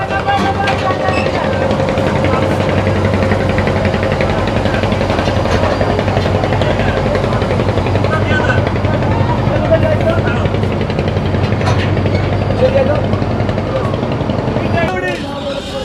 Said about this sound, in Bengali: তো লঞ্চ এখন বের হয়ে গেল চাঁদপুর থেকে